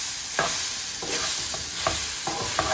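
Sabudana khichdi of tapioca pearls cooks in a pan with a soft steady sizzle, broken by several distinct stirring scrapes of a spoon at irregular intervals, close and alone without talk.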